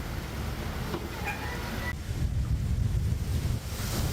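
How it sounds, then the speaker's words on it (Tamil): Rough sea surges onto the Kochi coast in Kerala, a continuous roaring wash of waves with strong wind buffeting the microphone, growing heavier in the second half. "கேரள மாநிலம் கொச்சி கடற்கரையோரம் உள்ள பல்வேறு பகுதிகளில் கடல் சீற்றம் காரணமாக கடல் நீர் ஊருக்குள் புகுந்ததால் பரபரப்பு ஏற்பட்டது"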